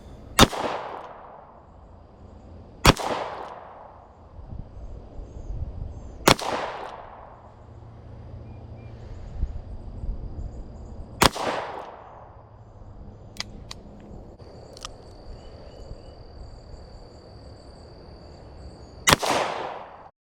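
Five loud, widely spaced shots from a WWII-era Smith & Wesson Victory .38 revolver at a shooting range, each a sharp crack with a ringing tail, with quiet background noise between.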